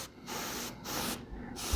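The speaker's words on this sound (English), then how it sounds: "I'll start spraying, I'll go straight across the model." An airbrush sprays ink in straight passes across a painted BattleTech miniature, three steady close hissing bursts separated by brief pauses.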